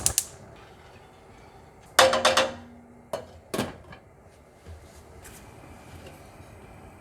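A saucepan of sugar syrup is set onto a camp stove outdoors, with a few loud metallic clanks and knocks spread over several seconds, then quieter handling.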